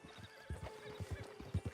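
A horse in Red Dead Redemption Online gives a short whinny over soft clip-clopping hooves, faint and brief, with no talking.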